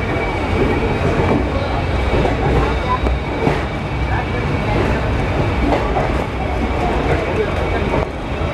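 Interior ride in a chair car coach of the Siddhaganga Intercity Express, an Indian Railways train between Yesvantpur and Hubballi: a steady loud rumble of wheels and carriage with faint clickety-clack, occasional squeals, and some background voices.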